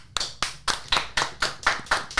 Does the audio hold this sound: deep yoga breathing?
no